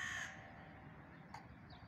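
Crows cawing outdoors in a brief burst of loud caws at the start, then a fainter call, with steady background noise and no talking.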